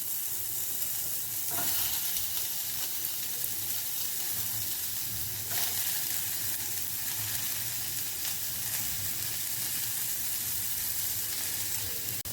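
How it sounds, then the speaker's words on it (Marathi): Onion fries for masala in a wok, a loud, continuous close sizzle and crackle that holds steady throughout, with faint stirring underneath. "कढईमध्ये आपला कांदा घ्यायचा आहे."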